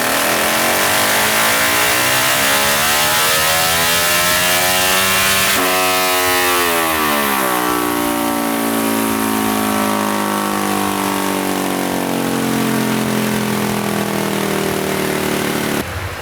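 Car engine revving hard on a dynamometer during a tuning pull, a loud sustained wail climbing steadily in pitch over many seconds, close and continuous.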